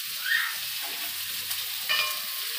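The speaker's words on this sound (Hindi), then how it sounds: "प्याज अभी फ्राई हो जाएगा" Onions frying in a pan, a steady hiss of sizzling oil with a couple of brief louder scrapes from stirring, close and alone.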